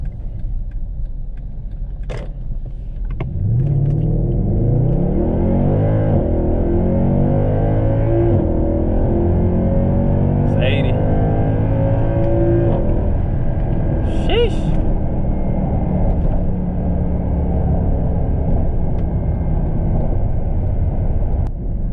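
A 2011 Mercedes-Benz AMG with a carbon performance package accelerates hard up a highway on-ramp, its engine note climbing through rising sweeps, dropping at gear shifts, then settling into a loud steady cruise from inside the cabin.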